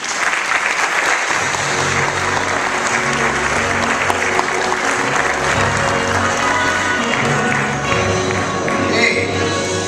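An audience applauds loudly and steadily at a Disney Cruise Line resort showcase event, sustained clapping filling the room with scattered cheers throughout.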